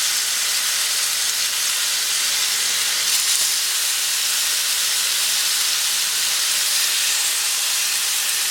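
Flattened chicken pieces fry in a shallow layer of oil, giving a steady, even hiss and sizzle that holds at a constant level from start to finish with no voices.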